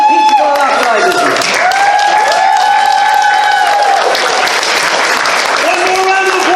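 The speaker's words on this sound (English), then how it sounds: "give them a round of applause" A crowd at an open mic night claps and cheers loudly and continuously, with whoops and shouted voices rising above the steady applause.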